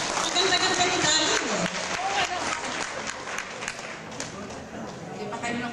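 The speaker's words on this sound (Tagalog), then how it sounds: "Oh, palakpakan niyo naman." An audience at a January officers' induction ceremony, gathered for a birthday toast, breaks into steady, dense applause. The clapping is loud at first and eases slightly, with a voice briefly audible over it.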